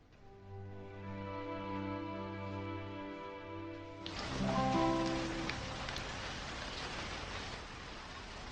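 Soft tonal music gives way about halfway through to heavy rain pouring down, a dense, steady hiss that swells and then stays constant to the end.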